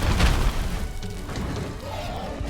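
Bazelgeuse's explosions in the video game Monster Hunter World open with a heavy, booming low blast, then a dense rumbling tail of combat noise continues loudly throughout.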